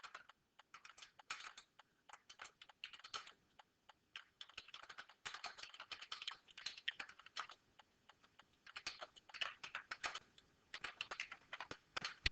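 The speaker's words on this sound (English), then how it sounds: "I'm just going to type that question in here" Someone types a question on a computer keyboard: quick, irregular clusters of light clicking keystrokes with brief pauses, close and quiet, with no talk.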